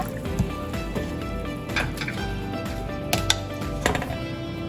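Thin coconut milk, the third extract, is poured into a pot for sodhi kulambu, giving a soft continuous liquid trickle with a few light splashes and clinks.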